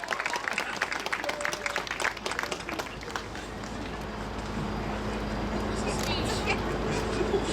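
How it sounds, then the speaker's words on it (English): Crowd at an amusement park ceremony applauding a charity fundraising total, a dense wash of clapping up front that thins into a steady broad roar of cheering and noise, loud and sustained. "That deserves a round of applause."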